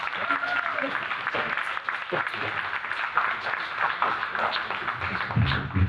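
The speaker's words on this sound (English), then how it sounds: "So I think we owe him a round of applause just for that." An audience at a political event urging people to vote applauds a senator, a dense, steady clapping that fills the whole stretch with voices mixed in.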